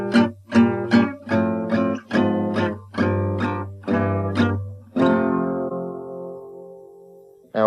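Gypsy jazz manouche guitar chords strummed in steady tempo, about eight crisp rhythmic strokes with short decays, then a final chord left ringing out, played alone and close.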